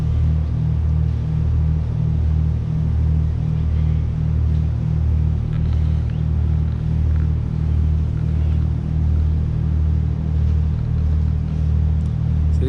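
A Murray Princess paddle steamer's engine idles steadily at a river lock, a loud, continuous low rumble with a regular pulsing throb that holds unchanged throughout, with no talk over it.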